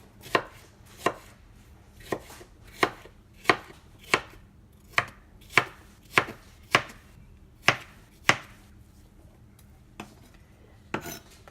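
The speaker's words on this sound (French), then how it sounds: "on va le couper aussi en deux, puis en deux" A knife chops a vegetable into small pieces on a cutting board for a chickpea and shrimp salad, giving about seventeen crisp, evenly spaced knocks, close and clear in a quiet kitchen.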